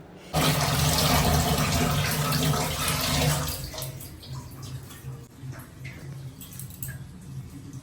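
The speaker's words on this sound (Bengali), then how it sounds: "মাছ মাংস কত কি নিয়ে এসেছে ওগুলো এখন ধুয়ে বেছে আমাকে পরিষ্কার করতে হবে" Tap water pouring at a kitchen sink while fish and meat are washed, a loud steady gush for a few seconds, then quieter splashing and handling sounds.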